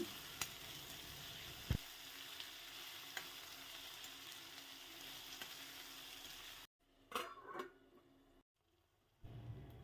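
Tomatoes and green chilies soften in a pan over a low simmering flame, giving a faint steady sizzle with a few light clicks; it cuts out near the end, then brief louder stirring scrapes follow.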